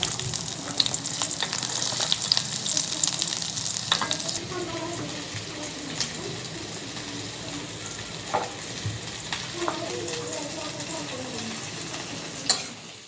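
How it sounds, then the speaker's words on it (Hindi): Chopped onions fry in a pan, giving a steady crackling sizzle throughout, with occasional stirring scrapes and a few brief clinks and splashes, close and continuous. "जो हमने प्याज को काटा था उसको भी फ्राई कर लेते हैं"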